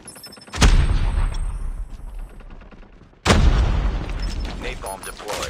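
Two heavy napalm strike blasts in Call of Duty Mobile, each a sudden loud boom followed by a long rumbling roar, with distant gunfire crackling between them.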